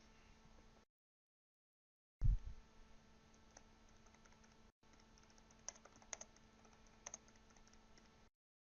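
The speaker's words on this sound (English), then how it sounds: "Next, we're going to type in the title for the viewpoint." Typing on a computer keyboard, faint quick key clicks in short bursts with a few sharper taps, heard alone without talk.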